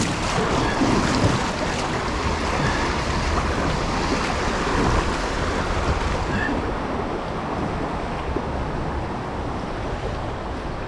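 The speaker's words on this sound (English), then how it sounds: "I did get a little bit splashed from those waves" Constant rushing, splashing whitewater rapids on the Vilnia river in Vilnius, paddled through by boat, with heavy wind buffeting across the microphone, loud and close, easing slightly toward the end.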